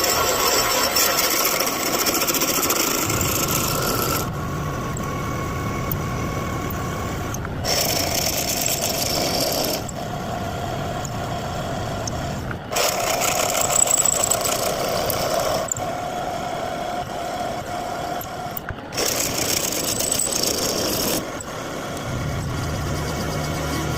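Drilling into a Ford 351C V8 engine block for screw-in rocker studs and guide plates produces loud machine whirring that starts and stops in several long passes, each cut giving way to a lower idle hum between them.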